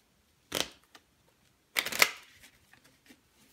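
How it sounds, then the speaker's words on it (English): A small stack of ten playing cards is shuffled twice, two brief riffling bursts about a second apart, followed by a few faint taps and clicks in a quiet room. "you tell them to shuffle those 10 cards up"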